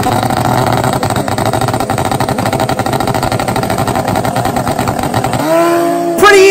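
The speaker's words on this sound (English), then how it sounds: "Pretty even off the line. Two great 60 foots. We are bar to bar. What a drag race." Turbocharged Suzuki GSX-R 1000 and Honda CBR 1000 street bikes launch side by side in a drag race final, a loud sustained engine roar near at hand with a brief rising rev and quick shift at the end.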